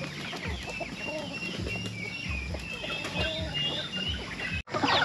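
Broiler chickens on a farm cluck and chatter nearby in a steady flock murmur, with some wing flutters and a brief dropout near the end.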